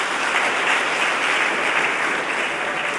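A church congregation applauds during a prophetic service, steady dense clapping that fills the room at constant loudness throughout, with no pauses.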